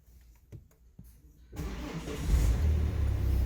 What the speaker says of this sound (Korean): 자, 시동 겁니다.